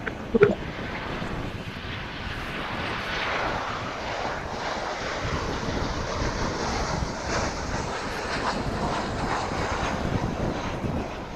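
An American Airlines jet passes at Dallas/Fort Worth International Airport, a steady, fairly distant broadband engine roar that holds throughout with a brief thump near the start and no talking.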